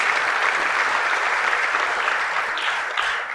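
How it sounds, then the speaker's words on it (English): Audience at a documentary film festival award show breaks into continuous, dense applause that holds at a steady, fairly loud level throughout. "Yes, applause."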